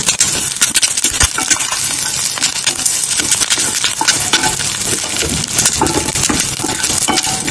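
Curry leaves dropped into hot oil in a South Indian kitchen, crackling and sizzling steadily with many sharp pops and spatters, close and fairly loud throughout.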